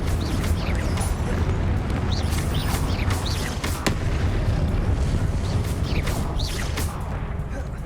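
Repeated spell blasts and booming explosions from the Hogwarts Legacy video game, with Confringo fire bursts and whooshes thundering continuously and loudly, dense and layered throughout with no pause.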